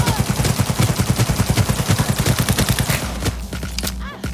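Rapid automatic gunfire from a weapon in the video game Cyberpunk 2077, a steady, loud stream of evenly spaced shots that breaks off near the end, with no talking over it.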